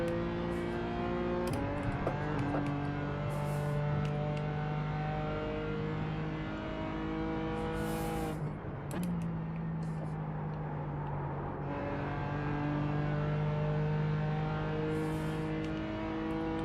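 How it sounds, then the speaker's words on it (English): In a racing video game, an LMP prototype race car's engine holds a steady high drone, with several sharp gear shifts and the note rising and falling as the car closes in and passes. "It's another LMP car coming up."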